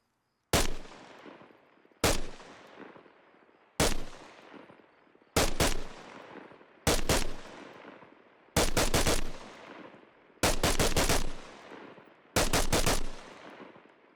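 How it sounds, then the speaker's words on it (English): Eight single shots from an FN SCAR rifle in the video game Arma Reforger, fired at a steady pace into the distance, each a sharp loud crack followed by a decaying echo, with no talking. "let's go ahead and fire a couple single shots out here in the distance"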